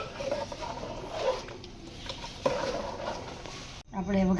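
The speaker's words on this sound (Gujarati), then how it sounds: "વઘારમાં લીલું લસણ અને ડુંગળી સુધારેલી છે એનો વઘાર કરી લઈશું ખડો મસાલો નાખીને" Green garlic, onion and whole spices sizzle in hot oil for a tempering, with stirring and clinks of utensils against the pan, a voice talking over it and a louder burst near the end.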